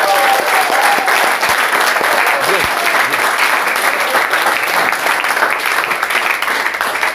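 Church congregation applauding for the Lord, a loud, dense, continuous roar of clapping filling the space, with faint voices mixed in beneath.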